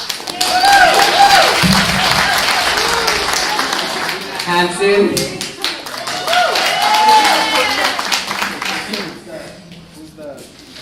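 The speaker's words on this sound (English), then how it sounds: "let's give a round of applause" An indoor audience claps in a sustained round of applause during a workshop demonstration while a person talks over it, and the clapping fades out near the end.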